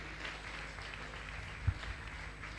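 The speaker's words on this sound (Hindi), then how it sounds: "तालियां हम बजाते रहें, इनके भावों की अनुमोदना करते रहें।" Faint, steady clapping from a seated audience at a Jain monk's religious discourse gathering, a dense even patter with no voices over it.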